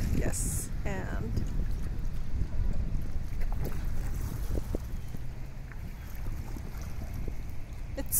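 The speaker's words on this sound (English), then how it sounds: "it's so relaxing to hear the sound of water flowing through" Water streaming past a canoe on a river trip, with steady broadband outdoor noise, wind buffeting the microphone and occasional knocks, while people talk nearby.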